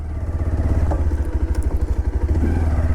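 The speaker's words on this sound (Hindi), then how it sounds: "और ये है इसके साइलेंसर। साउंड सुन लेते हैं, बढ़िया साउंड है।" A Bajaj Pulsar 125 Neon motorcycle idles close to its exhaust silencer, throbbing in a steady, rapid pulse of low thumps with no voices.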